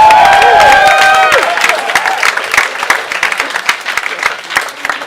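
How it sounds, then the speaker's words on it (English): Live audience at a stage science show clapping and cheering for an assistant, opening with loud whistles and shouts, then dense applause that gradually thins and fades. "Can I have a round of applause for Dr. Kavana?"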